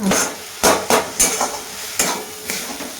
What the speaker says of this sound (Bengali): আর একটু গরম মশলা দেব দিয়ে ভালো করে মেখে নিই